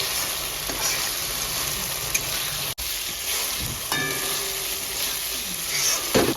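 Marinated desi chicken fries with dried chillies and spices in a pan. A loud, steady sizzle carries throughout, with a brief break and occasional scraping stirs, close up and without speech.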